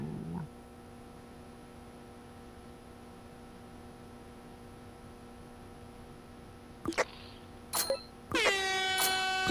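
Air horn blasts in a video game: two short honks, then a loud sustained blast to the end, sounding over a steady background hum.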